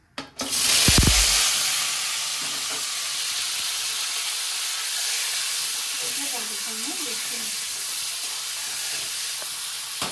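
An egg hits about a spoonful of hot salted oil in a kadai (wok) and erupts into a loud sizzle, which settles into a steady, close frying hiss that runs to the end, with faint voices in the background.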